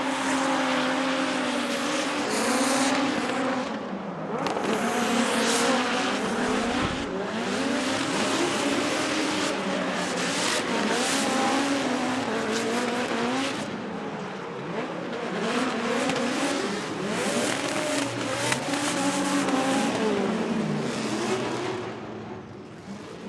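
Toyota Racing Toyota Corolla hatchback drift car with a turbocharged, nitrous-fed four-cylinder, revving hard and continuously with rapid pitch swings and bouncing throttle, loud and close throughout.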